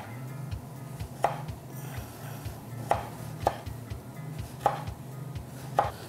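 A knife chops tomato on a board for a simple lettuce and tomato salad, giving about half a dozen sharp, evenly spaced cuts over a steady low kitchen hum.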